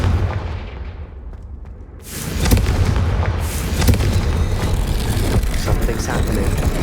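Confringo fire spells blasting in the Hogwarts Legacy video game, a sudden loud burst of booming, crackling explosions that keeps rumbling and popping over a dense game background.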